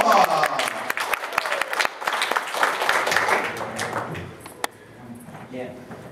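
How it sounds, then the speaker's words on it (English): A convention crowd claps and cheers for an Eisner Award–winning comic inker, a dense burst of applause that is loud at first, with voices mixed in, then thins and fades toward the end. "Let's have a big round of applause for Eisner Award winning inker Steve Lealoha."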